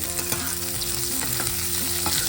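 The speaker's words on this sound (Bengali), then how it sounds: "ভাজা হয়ে গেছে, পেঁয়াজ কুচিটা দিয়ে দিলাম" Chopped onion fries in a pan for the parwal and fragrant rice dish, giving a steady, close sizzle with faint scraping strokes of a spatula running under it and no voices.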